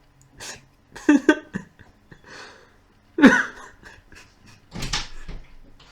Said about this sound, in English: the dogs are trying to break into the room